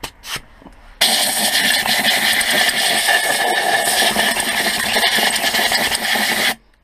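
An air compressor line blasts out the differential of a 2004 Volvo XC90: after a few faint knocks, a loud, steady hiss of air runs unbroken for about five and a half seconds, then cuts off sharply.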